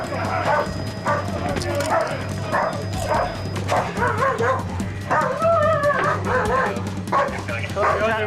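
Police dog barking and yipping excitedly at close range in repeated bursts, with whimpers between, while a handler shouts over it during a drug search operation.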